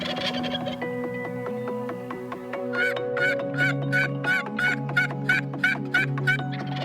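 Wild turkey hunt on a misty, dewy morning: a hen-like call sequence gives way to a rapid series of about eleven sharp, evenly spaced yelps, close and clear over tonal calling with no talk.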